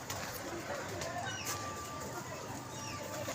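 Pigeons at a pigeon club coo and flutter against steady outdoor background noise, with occasional faint bird calls and a low murmur of nearby voices.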